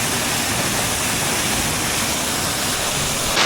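Waterfall near Kathmandu, a dense continuous roar of falling water, loud and close, with no pauses.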